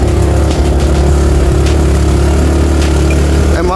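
A motorcycle engine runs steadily at close range while the bike is ridden along a narrow, overgrown footpath through dense forest on Mount Tampomas, with a constant low drone and a brief rise near the end.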